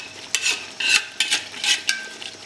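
Mutton and masala roast in a pan for Saoji mutton curry as a spoon scrapes and stirs it in several short, sharp bursts over a low sizzle.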